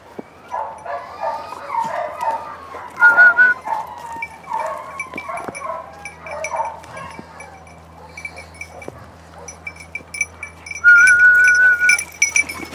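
A beagle gives a few short barks and whimpers in bursts, near and fairly loud, over a quiet outdoor background.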